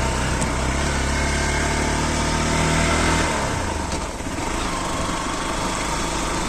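A motorcycle moving along a forest track in Bastar, its engine droning steadily and loud, then dropping away in pitch partway through as the rider eases off, no talk heard.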